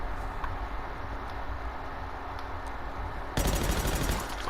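Pistol gunshots in a video game: a steady backdrop of game ambience with faint shot ticks, then a loud rapid burst of gunfire near the end.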